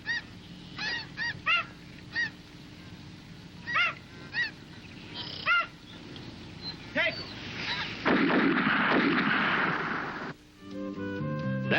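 Snow geese honk repeatedly in scattered calls over a Texas marsh, then a burst of loud shotgun fire breaks out, followed by a steadier mechanical hum with tonal notes.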